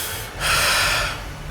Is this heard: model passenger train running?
no